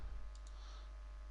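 A couple of quick, soft clicks from a computer mouse right-click on a Windows 10 PC, close but quiet over a low steady hum.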